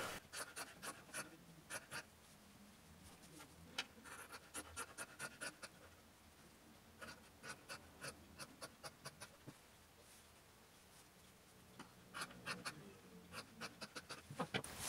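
Scissors snip through fabric for a women's shirt in quick runs of crisp, close cuts, pausing between bursts, with no talking.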